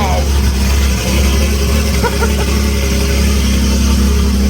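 A Lamborghini Murcielago LP640 V12 with individual throttle bodies idles smoothly, a loud, steady low rumble filling the whole stretch with no revving.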